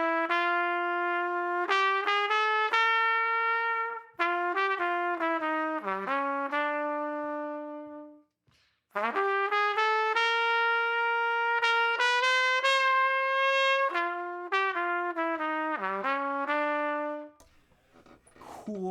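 The first eight bars of a jazz tune are played as a clean single melodic line, phrases rising and falling with short gaps between them and a brief pause midway, with no voice.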